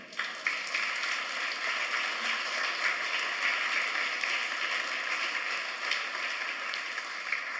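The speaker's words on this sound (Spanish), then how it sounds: "Denle un aplauso al Señor" Congregation applauding during a church sermon, a sustained wash of many hands clapping at moderate volume, steady from start to finish with no speech over it.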